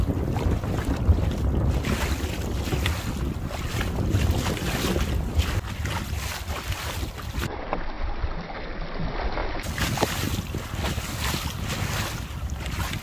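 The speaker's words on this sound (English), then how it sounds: "the wind really picked up to about 15 miles an hour" Strong wind at about 15 miles an hour sweeps a Florida beach near Destin, roaring steadily into the microphone with surf rumbling beneath. The gusting noise is loud and continuous, with no pause.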